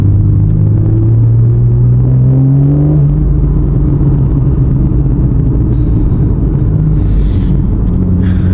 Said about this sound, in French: En plus là on est en sport plus, alors là l'option échappement ouvert là, parce que t'as le bouton.